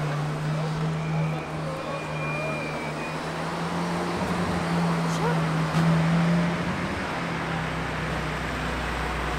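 A Ferrari 458 Spider drives past, its engine tone rising out of a steady wash of background noise, swelling loudest near the middle and then falling away.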